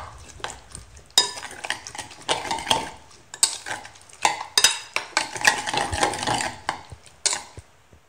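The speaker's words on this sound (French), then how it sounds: "Je mélange mes ingrédients de la charmoula." Charmoula ingredients — sweet pepper, cumin, lemon juice and salt — stirred together in a bowl for a fish tajine, with repeated close scraping and clinking of a utensil against the dish in uneven bursts, no talking.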